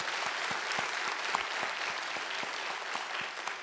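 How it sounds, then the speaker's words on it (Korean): A church congregation applauds together during a Korean Baptist New Year's Eve worship service, steady dense clapping from a large room held evenly through the whole stretch with no voices over it. "올 한 해 우리와 함께 하신 하나님께 영광의 박수 올려드리겠습니다"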